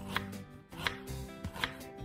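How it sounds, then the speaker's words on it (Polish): Knife slicing an onion into thin strips on a cutting board, three crisp evenly spaced cuts close up against faint background hum. "cebulę, więc kroję ją w pióra"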